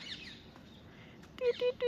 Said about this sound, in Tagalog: Yung mga huni ng ibon ang maririnig mo.